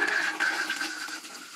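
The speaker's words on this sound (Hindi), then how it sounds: "मैंने यहाँ से थोड़ा सा पानी निकाल देना है टूटी से, ताकि हमारा गीजर जो है ये फुल हो जाए" Water runs from a tap into a homemade PVC water heater, a steady rushing splash that fills the short stretch on its own and softens slightly toward the end.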